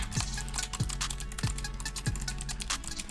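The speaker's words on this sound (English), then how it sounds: "I'm even getting lag like on my keyboard typing" Rapid typing on a computer keyboard, a steady stream of close, crisp key clicks with heavier thumps recurring about every half second, no talking.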